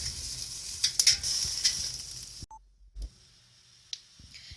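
Chestnuts roast in a pan while being turned over, a bright sizzling hiss with scattered sharp clicks and taps, then a drop to near quiet broken by occasional ticks and small knocks.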